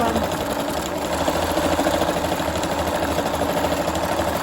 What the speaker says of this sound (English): It's noisy doing all this sewing